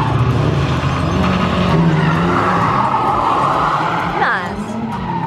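A Mazda MX-5 drifts with loud, sustained tire squeal and skidding over a revving engine, close and continuous, with a sharp squeal burst near the end; voices can be heard alongside.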